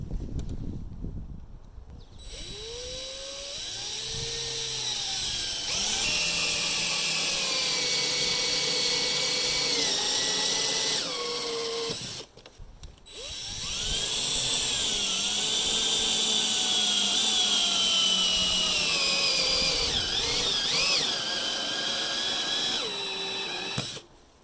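A power drill drives screws through composite Azek decking into a deck joist, two long, loud, steady whirring runs with rising pitch, separated by brief pauses and ending in a short final burst, with no talk.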